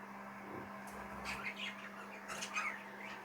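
A small sky blue cinnamon cock bird, about ten months old, squawks and chirps a few times nearby over a low steady hum, faint and brief.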